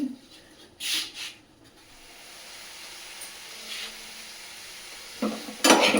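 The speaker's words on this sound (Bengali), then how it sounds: "সেটা আমি একটু পেঁয়াজ একটু শুকনো লঙ্কা একটু জিরে ফোড়ন নুন হলুদ মিষ্টি সব দিয়ে কিন্তু একটু নেড়ে নিচ্ছি এখানে" A spatula scrapes and stirs boiled cabbage and peas in a wok with onion, dried red chilli, cumin, salt, turmeric and sugar, giving a few close scraping bursts over a soft, steady sizzle, with no talking.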